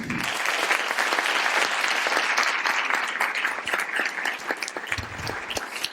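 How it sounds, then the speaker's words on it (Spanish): An audience at a university illusionism psychology conference applauds warmly for magician Miguel de Lucas, steady dense clapping that fills the room and tapers slightly toward the end. "vamos a recibir con un merecidísimo y enorme aplauso a Miguel de Lucas"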